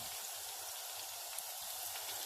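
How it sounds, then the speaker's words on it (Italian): Meatballs frying in hot oil in a pan, a steady dense crackle and sizzle of small bubbling pops, close and continuous with no talking. "Gradualmente andrò a friggerle tutte."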